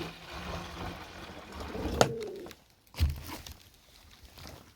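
Pigeons at a home loft coo softly in the background, low murmuring calls with a sharp click-like knock and a thump, otherwise quiet room noise without talk.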